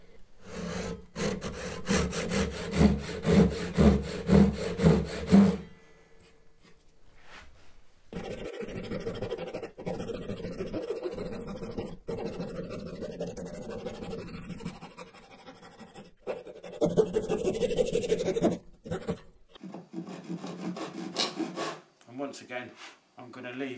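A hand saw cutting wood to clear the middle of a bridle joint, rapid rasping strokes up close at first, then slower, intermittent scraping with pauses.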